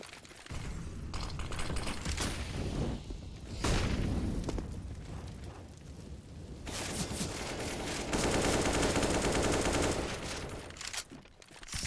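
Rapid AK rifle bursts ring out during a competitive Counter-Strike match on the CT side, with dense crackling volleys and heavy booms, loudest near the middle and end, under faint game ambience.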